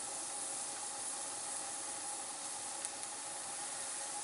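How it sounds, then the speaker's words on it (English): Coolant hissing and bubbling around the thermostat of a 1997 Detroit Series 60 diesel engine, a steady broadband steam-like hiss held at an even, fairly quiet level throughout, no talk. "Let that boil in there some more"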